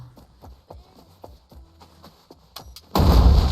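Rhythmic thumps and footsteps in a game scene, then a sudden loud, noisy burst like an explosion near the end.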